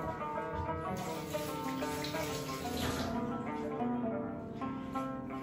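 Tap water runs steadily into a sink while something is rinsed under it during burger preparation, a continuous close splashing stream with slight shifts as the item moves.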